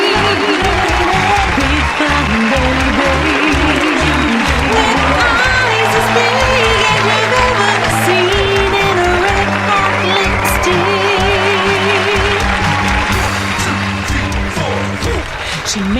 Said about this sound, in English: thank you everyone so much for that awesome applause